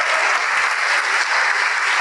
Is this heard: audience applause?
yes